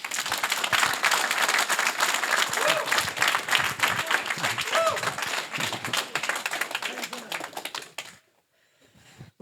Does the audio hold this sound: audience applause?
yes